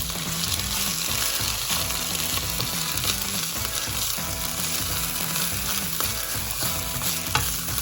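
Cabbage rice with potatoes cooks in a pan, a dense, steady close sizzle with a constant crackle and faint stirring scrapes throughout, without any speech.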